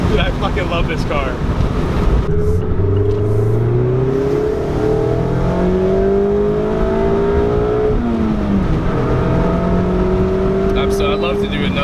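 A Mazda Miata 30th Anniversary Edition accelerates along a road, its engine note climbing steadily through the gears with rushing wind noise, heard loudly from inside the cabin.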